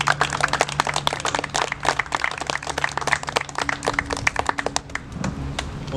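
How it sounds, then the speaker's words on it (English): Meeting audience applauding for Bill McCormick at a public outreach event on low head dam safety, a lively patter of many hands clapping continuously, close and fairly loud, fading slightly toward the end. "So I want to have a clap for Bill McCormick."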